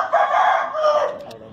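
A rooster crows near a house rooftop, one long, loud, close crow lasting over a second and trailing off at the end.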